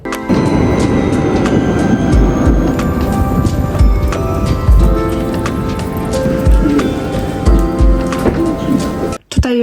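Steady rumble and rattle of a moving tram with rhythmic low thumps from the rails, close and fairly loud, ending with a brief clunk.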